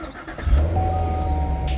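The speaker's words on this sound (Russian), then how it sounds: "Заводится как обычная гражданская машина." A large V8 engine of a Chevrolet Corvette C7 Grand Sport catches and settles into a steady, low rumbling idle with the exhaust in quiet mode, with a faint whine running above it.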